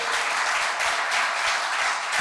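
An audience at a talk on rebuilding Haiti breaks into steady, dense applause, many hands clapping together at moderate volume throughout, with no voice over it.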